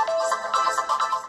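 A ringtone preview plays on an Oppo K12x 5G phone, a short bright melodic pattern of repeating tones in a steady rhythm, clear and close with no talking.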